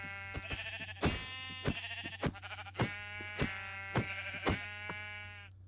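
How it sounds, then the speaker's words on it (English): Sheep in the video game Minecraft bleat repeatedly, a string of short nasal baas in an uneven rhythm over a steady low hum, fairly quiet and without any talk. "Hello, sheep."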